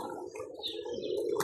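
Pigeons at a pigeon club in Jalilabad cooing faintly and chirping, soft scattered calls close by with a brief flutter at the end.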